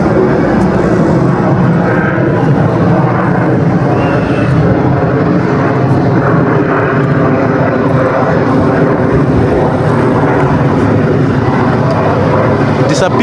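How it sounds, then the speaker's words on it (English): An airplane flies overhead near an airport over a Russian apartment complex under construction, a loud, continuous, broad engine roar holding steady throughout, with people talking beneath it. "You can see a lot of planes flying around this place."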